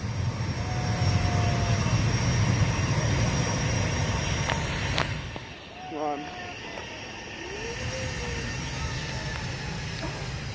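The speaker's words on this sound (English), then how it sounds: "There goes the Maryland plane" A Southwest airliner in Maryland heritage livery takes off from BWI airport, its engines giving a steady broad roar that fades away, with people talking nearby.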